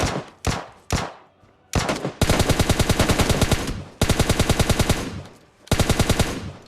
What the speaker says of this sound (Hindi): उस तरफ गोलियां चल रही हैं